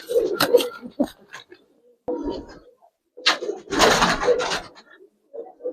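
Old-breed Gribaz coloring pigeons in a loft, with soft, low cooing calls in irregular bursts close by, separated by quiet gaps, with a few rustles and bumps.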